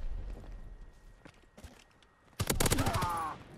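Call of Duty WW2 gunfire: quieter shuffling and scattered sounds give way to a loud burst of rapid automatic shots lasting about a second, close and dominant near the end.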